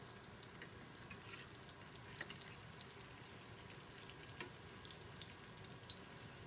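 A patty cooks in a frying pan with a steady, quiet sizzle and crackle, close up, with a few faint clicks and taps of a utensil and no voices.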